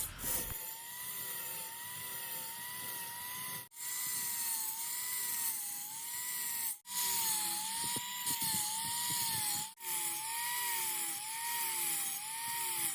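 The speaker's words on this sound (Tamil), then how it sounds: "ஆங்கிள் கிரைண்டரை யூஸ் பண்ணி கொஞ்சம் லைன் லைனாக கோடை" An angle grinder cuts line after line into a wooden propeller blank for a homemade airboat, a loud, steady high whine that wavers with the cut, dropping out briefly between passes.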